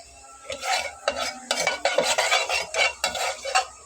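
Whole cumin seeds are stirred in a little oil in a pan, with a utensil scraping in quick rhythmic strokes over a light sizzle, close and clear.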